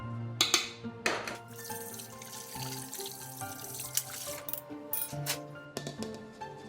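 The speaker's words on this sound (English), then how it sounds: "Add water. While flapping mix." Water poured into crepe batter while it is mixed by hand in a bowl, making a steady running trickle and splashing, with a few sharper clinks and knocks against the bowl.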